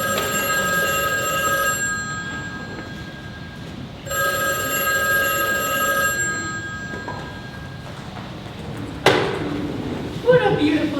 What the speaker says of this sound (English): I don't want the number ruined by a ringing telephone.